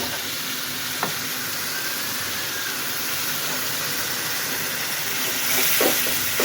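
Ginger-garlic and cumin spice paste fries in a pan with a steady, close sizzle and hiss throughout, a couple of soft stirring scrapes, and a slightly louder burst of sizzling near the end.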